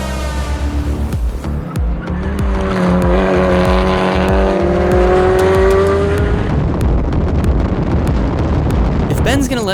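A Honda Civic Type R making just under 400 horsepower is driven hard around the VIR race track, its engine revving up loudly and steadily with tire noise and wind buffeting, close to the cabin.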